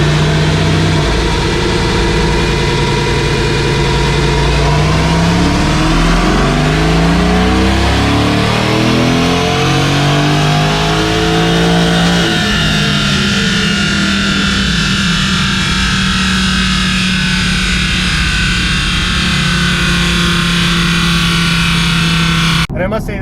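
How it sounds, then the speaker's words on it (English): A Mercedes-AMG GT R fitted with an Fi exhaust system roars on a dyno, its engine climbing through rising revs in sweeping glides, then settling into a loud, steady high-rpm drone before cutting off abruptly at the end. "this car on the dyno"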